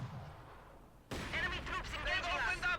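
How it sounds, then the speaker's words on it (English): A Maxim machine gun firing in Company of Heroes 2 cuts in abruptly after a quiet second, then continues as loud, rapid bursts mixed with other battle noise. "the Maxim machine gun is now veteran C2"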